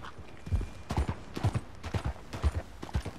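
Steady clip-clop of horse hooves at a walking pace in Red Dead Redemption 2, evenly spaced and fairly close, with a soft rustle of movement underneath.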